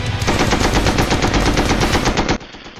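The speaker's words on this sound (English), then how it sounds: "He's still strafing us in the spawn." Rapid automatic gunfire from the Red Orchestra video game rattles in one loud, continuous burst for about two seconds, then cuts off abruptly, with no talking.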